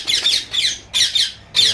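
Caged lovebirds guarding eggs and chicks in a breeding cage give four harsh, high screeching bursts in quick succession, loud and close, with short gaps between calls.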